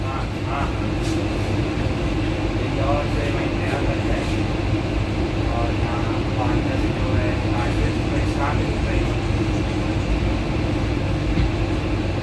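Passenger train leaving Indore Junction railway station in India, a steady rumble with rhythmic rail clatter heard from inside the carriage, continuous and fairly loud.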